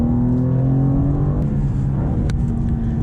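BMW M2 with automatic transmission pulling hard through a corner, a steady close engine drone with sustained revving tones holding throughout, no talking.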